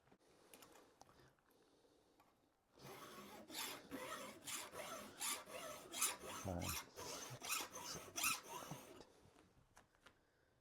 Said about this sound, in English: I'm not used to yakking and filing at the same time